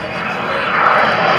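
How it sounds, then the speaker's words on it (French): An Alpha Jet military jet flies back toward the crowd at an aerobatics air show, its engine a loud, steady broadband roar that swells slightly as it nears. "Regardez cet Alpha Jet qui revient face à vous."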